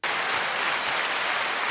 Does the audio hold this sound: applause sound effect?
yes